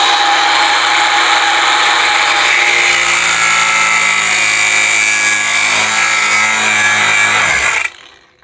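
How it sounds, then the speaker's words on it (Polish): A tool cuts through a pipe to take off a 10 cm section, making a loud, close, continuous grinding whine with ringing tones. It stops abruptly near the end, and no one speaks. "tniemy sobie teraz najpierw 10 cm tutaj z tego"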